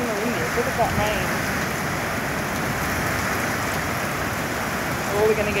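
A thunderstorm in Kambalda brings heavy rain that roars in a steady, loud wash from start to finish, with a brief voice barely surfacing through it.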